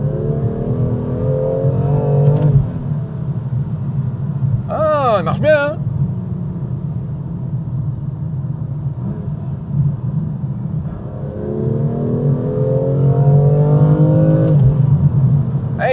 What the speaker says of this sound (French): Ça fait longtemps que j'ai pas testé une petite moto.